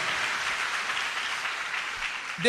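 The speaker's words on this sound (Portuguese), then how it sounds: "dá uma salva de palmas para Jesus" A church congregation applauds for Jesus during a sermon, a steady, even wash of many hands clapping that continues throughout, ending with a brief voice at the close.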